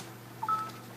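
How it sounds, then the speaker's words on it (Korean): A telephone shifting where it sits lets out a brief electronic tone, a short blip followed by a slightly longer steady beep, faint and isolated against a quiet room. "전화기가 움직이는 소리였었군요."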